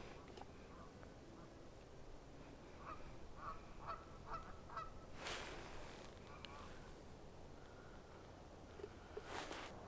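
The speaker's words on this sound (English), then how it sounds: "he hears a random squad of waterfowl flying in the air" A flock of geese flying overhead in a snowy Colorado winter setting, with scattered honking calls coming in bursts at a moderate distance over steady background noise.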